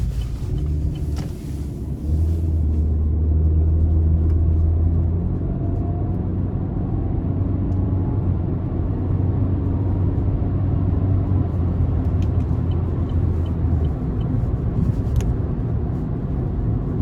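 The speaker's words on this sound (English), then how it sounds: "take this 2016 Chevy Spark out on the road for a quick test drive" A 2016 Chevrolet Spark LS with a CVT and about 108,000 miles, heard from inside on a road test drive: a continuous low engine and road rumble with a steady hum, no talk.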